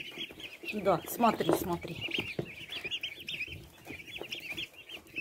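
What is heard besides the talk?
turkey poults clucking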